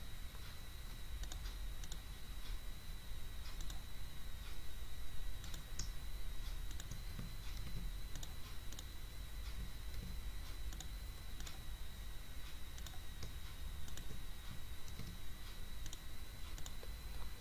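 Quick, light keystrokes on a computer keyboard while typing a document in MS Word, a continuous irregular patter of clicks at a close, fairly quiet level, with no voices.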